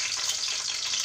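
Whole dried round red chillies drop into hot cooking oil in a pan on a lowered stove, giving a loud, steady, close-up hiss and sizzle throughout.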